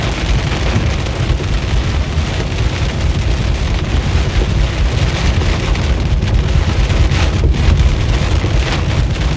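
Heavy rain pours down in a slow-moving Midwest thunderstorm, a loud, dense, unbroken hiss of drops on surfaces heard close up with no voices.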